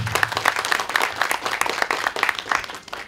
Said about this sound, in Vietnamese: Một lần nữa hãy dành một tràng pháo tay vì không khí này.